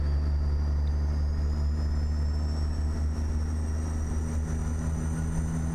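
Caterpillar 3406E turbocharged truck engine in American Truck Simulator, a Peterbilt 389 hauling a step deck: a continuous deep diesel drone with a high turbo whistle rising slowly above it, steady and close, no voices.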